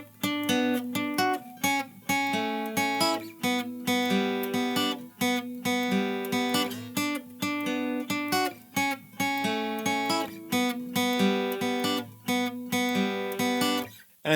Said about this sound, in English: we're just going to play it on a guitar here because that's the instrument we play